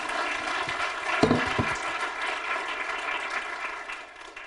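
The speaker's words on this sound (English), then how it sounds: "Round of applause." A small audience at a Shakespeare verse-speaking talk gives a soft, distant round of clapping that stays steady and fades slightly at the end.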